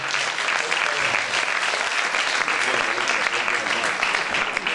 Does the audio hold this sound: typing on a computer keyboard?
no